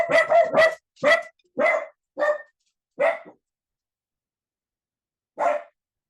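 Small dogs barking as a garage door opens, a quick burst of sharp, close yaps followed by a few spaced single barks, then quiet before one last bark.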